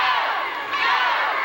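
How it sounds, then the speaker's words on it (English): Crowd at a 1988 Oak Grove vs Mangham high school football game hollering and cheering, a dense, continuous roar of many voices filling the stands. "You can hear the crowd hollering, go, go,"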